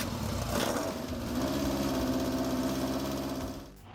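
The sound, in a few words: 1966 Munch Mammoth motorcycle engine running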